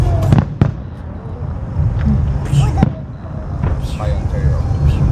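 Flower rocket fireworks at an outdoor Idaho Center display in 2014 burst in sharp, loud cracks and pops over a steady crowd rumble, with several distinct bangs spread across the clip while spectators chatter nearby.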